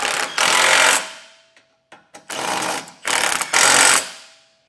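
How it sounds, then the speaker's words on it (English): Bolts on a Roadmaster crossbar-style base plate kit for a 2024 vehicle driven down with a power tool, several loud buzzing bursts separated by short pauses, close and alone without talk. "Then you want to come back and torque down all of our hardware to the specifications and the instructions."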